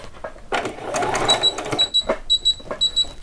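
A sewing machine works a back stitch along the waistband of a doll's saree, giving a quick rhythmic run of needle thumps up close with a few bright clicks.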